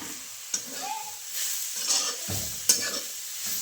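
Squeezed grated radish frying in a wok, a steady sizzle with a spatula stirring and scraping through it, plus a few sharp clinks, close up and with no talking.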